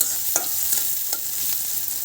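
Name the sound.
onions frying in pan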